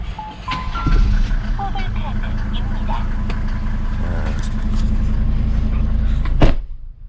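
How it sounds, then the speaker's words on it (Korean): A used 2000 SsangYong Musso, fitted with a winch and being made into a camper, idles with a quiet, steady low rumble, ending in a sharp knock like a door; a person talks throughout. "차 엔진 소리 한번 들어볼까요?"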